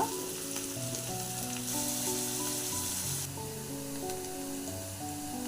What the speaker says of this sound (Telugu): నూనె వేడెక్కిన తర్వాత కట్ చేసిన ఆనియన్స్, పచ్చిమిర్చి వేసి వేయించాలి